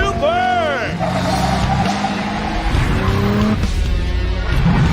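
Powerful tuned car engines roar through a Cyberpunk 2077 street-racing scene as tires squeal and skid, the revving loud and continuous for several seconds while a voice talks over it.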